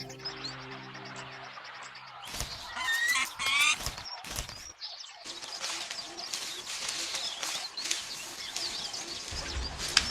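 Sharp, chattering red-billed oxpecker calls and chirps come in bursts over an outdoor background, moderately close, with some rustling noise between calls.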